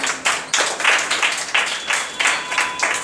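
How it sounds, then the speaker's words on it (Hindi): A small audience claps rhythmically for a student in a classroom, about a dozen fairly even, close bursts of hand claps repeating over three seconds with no talking. "जोरदार ताली"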